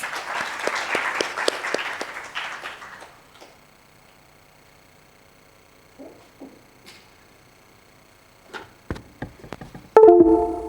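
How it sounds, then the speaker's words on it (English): An audience at a global maritime conference gives a round of applause, a dense burst of clapping for about three seconds that fades out, followed by quiet room sounds, scattered knocks and a loud thump near the end. "Can we welcome him with a round of applause?"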